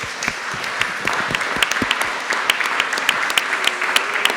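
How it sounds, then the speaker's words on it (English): Conference attendees at a data protection panel applaud the speakers, a full round of many hands clapping steadily, with sharper individual claps standing out close by, and no talk. "I would like you to join me in a round of applause for these great interventions"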